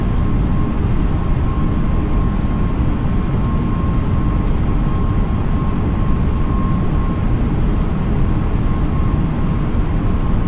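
A flight-simulator airliner climbing out after takeoff, a loud continuous engine roar with a steady whine, unbroken and without talk.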